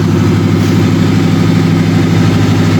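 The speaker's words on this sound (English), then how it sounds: "run the engine in and the camshafts to bed them in" A 1961 Cadillac Deville 390 V8 runs steadily at a fast idle during break-in to bed in the camshaft, a loud, continuous, even engine drone heard close up with no talk.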